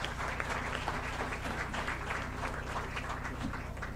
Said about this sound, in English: A big round of applause for him, please